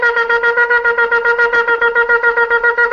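A shofar blows teruah, a rapid series of nine short staccato blasts, evenly pulsing and loud, with no pause between them.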